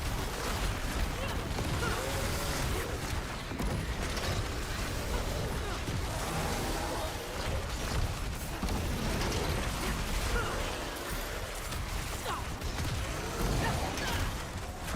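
A meat grinder machine in a crafting video game, giving a continuous grinding, creaking mechanical churn with ratcheting clicks that runs steadily throughout, while a person talks over it.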